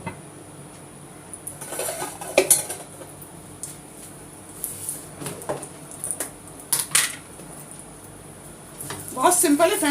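Oil sizzles under a second batch of food frying in a home kitchen pan, mixed with sharp clinks and clatter of utensils against cookware that come and go in bursts, growing busier near the end.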